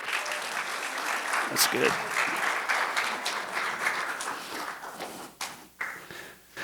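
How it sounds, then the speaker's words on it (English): A church congregation applauds in a sustained, fairly loud patter of many hands that thins out toward the end, while someone speaks briefly over it. "Y'all give him a hand."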